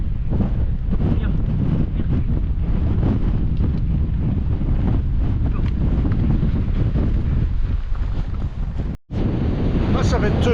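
Strong wind on the Scottish mountain Creag Meagaidh, blasting the microphone in a loud, steady roar that cuts out for a split second near the end before gusting again.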